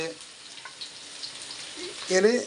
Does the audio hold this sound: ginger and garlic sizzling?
yes